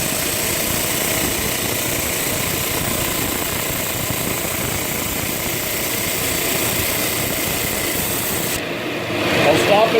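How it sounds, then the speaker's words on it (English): A power sander works on wood with a shop vacuum attached and running, a steady loud broadband whir and rasp that holds continuously for nearly the full length before a brief shift near the end. "We're going to sand with the sander with my shop vac on"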